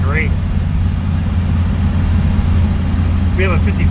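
A 1952 Henry J gasser fitted with a 409 cubic-inch engine idles with a loud, steady low rumble, and a voice speaks briefly at the start and near the end.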